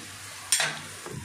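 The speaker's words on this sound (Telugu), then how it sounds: "ఇవన్నీ చక్కగా ఫ్రై చేసుకుందాం" Onions and spices for gongura mutton hit a hot pan with a sudden close sizzle, followed by a brief stirring scrape about half a second later, with no talking.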